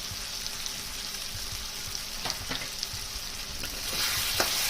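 Ground cumin, coriander and chilli powder frying in oil in a pan for a pomfret fish curry, a dense continuous sizzle with occasional light stirring clicks, close and steady, with no talking.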